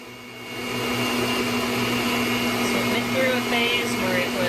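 A mixer running at high speed, churning cream into homemade butter, gives a steady loud motor whir with a low hum that holds on after a brief quieter start.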